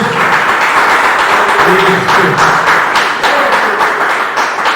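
A church congregation applauds loudly and steadily throughout, a dense wash of many hands clapping together with some voices mixed in.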